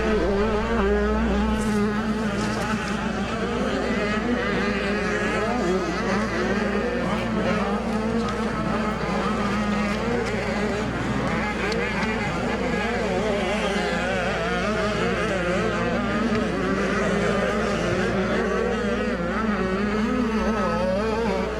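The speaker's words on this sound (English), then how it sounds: "the war will be won by this young man, Drew Adams, on the number 33 Kawasaki" Several motocross dirt bikes racing, including a number 33 Kawasaki, in a 12-14 mini senior moto at Loretta Lynn's, buzzing high-revving engines that rise and fall continuously at mid distance.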